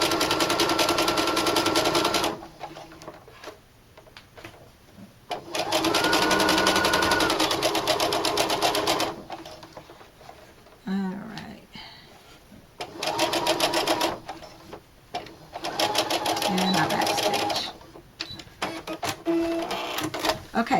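A sewing machine stitches a fringe bag in several loud, whirring bursts of a few seconds each, starting and stopping with quiet gaps between runs, where a voice talks softly and fabric rustles.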